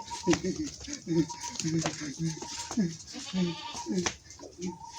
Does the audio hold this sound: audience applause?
no